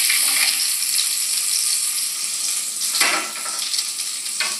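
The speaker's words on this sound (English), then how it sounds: "So now I'm laying it skin side down because I've got that beautiful browning on the surface of the trout." Trout frying skin side down in brown butter in a pan, a steady bright sizzle with a couple of brief louder crackling bursts.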